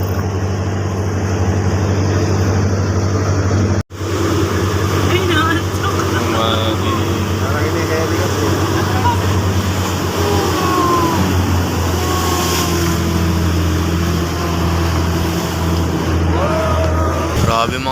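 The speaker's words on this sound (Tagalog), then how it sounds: "Grabe mga tol, sobrang lakas ng alon." A boat crosses strong, choppy ocean waves on the way to Patnanungan Island, its engine a loud, constant drone over rushing water and wind, with a voice talking over it.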